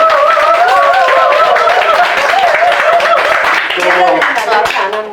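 Clapping and applause from an audience at a victims' group annual general meeting and year-end gathering, sounding under a person speaking throughout.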